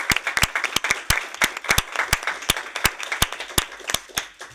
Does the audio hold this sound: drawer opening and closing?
no